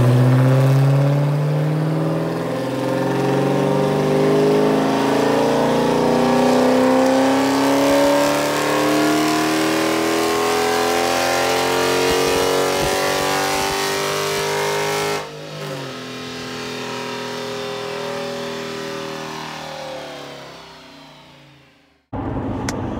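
A car engine fitted with long-tube headers, an intake and a stock exhaust, running without a tune, revs loudly and repeatedly, rising in pitch through sustained pulls, then drops and cuts off abruptly near the end.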